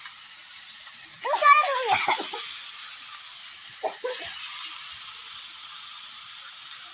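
Meat frying in a pan gives a steady, soft background hiss and sizzle, while voices talk loudly in two short bursts over it.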